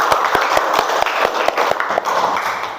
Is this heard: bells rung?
no